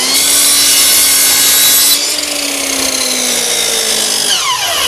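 A miter saw slices through wood for a 90-degree picture frame miter, a loud whining cut that drops off partway as the blade spins down, then a faint second pass near the end.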